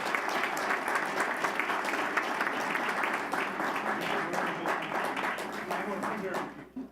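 An audience at a school district board meeting breaks into sustained applause, a dense, even wash of clapping lasting several seconds before tapering off at the end, with some voices mixed in.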